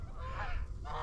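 A flock of geese honks as it comes in to land over a river during a goose hunt in a snowstorm, the honks steady and fairly close through the short clip.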